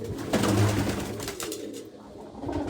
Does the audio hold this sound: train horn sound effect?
no